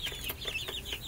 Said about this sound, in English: I truly hope these are girls. I hope they're hens.